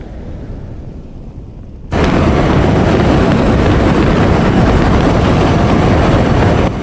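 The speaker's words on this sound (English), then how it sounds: "That engine sound is crazy." Origin M80 spaceship engine from the Star Citizen video game kicks in suddenly after a quieter hum, becoming a loud, steady, broadband roar that holds without a break.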